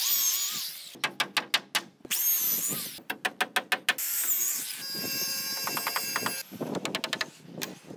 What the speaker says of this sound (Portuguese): é só bater o prego